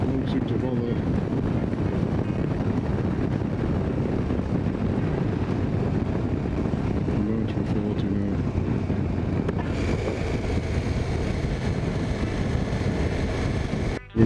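A KTM 1290 S motorcycle riding at 65 mph on a bumpy road: constant loud wind buffeting and rumble against the microphone, with engine and road noise mixed in and a voice talking over it.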